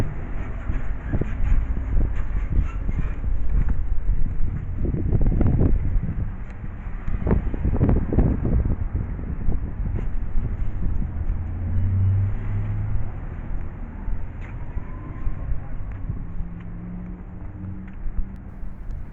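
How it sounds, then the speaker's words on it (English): Steady wind buffets the microphone outdoors on a main street, a constant rumble with gusts swelling and fading over distant street traffic noise, no voices. "It was windy this day,"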